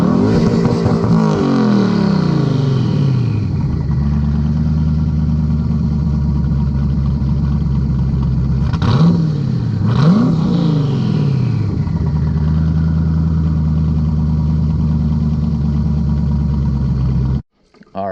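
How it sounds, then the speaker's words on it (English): A C5 Corvette engine idles with a deep, throbbing burble and is blipped twice in sharp revs before settling back, then cuts off abruptly at the end. "Let me get you a couple revs of it"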